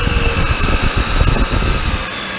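A Startrite H325 mitering band saw runs at full speed with no coolant on its carbide blade guide. It gives a steady, loud mechanical whir and hum with a low rumble, close by and with no talk.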